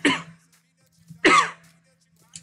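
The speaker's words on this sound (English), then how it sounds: "So I'm going to cough." Two short, rough coughs a second apart, close to the mic, with a faint steady hum underneath.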